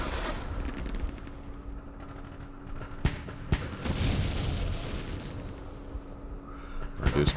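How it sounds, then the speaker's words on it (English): French artillery fire in the wargame Campaign Series Vietnam, Dien Bien Phu: a steady low rumble with a few sharp thuds around the middle and a swelling blast near the end, no voices. "The damn French artillery."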